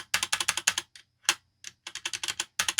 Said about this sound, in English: You hear how quiet this keyboard is?